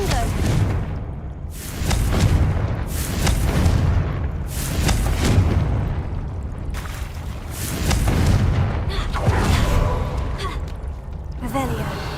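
Confringo fire spell explosions in Hogwarts Legacy, a series of loud booming blasts repeating every second or two, with breathy gasps from the player character between casts.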